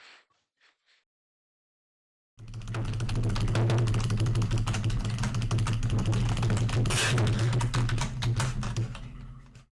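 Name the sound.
typing a message on a keyboard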